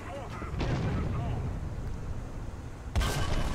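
A tank cannon fires at a Panther in War Thunder during a KV tank battle: a heavy boom near the start and another sharp blast near the end, over a steady rumbling battlefield din.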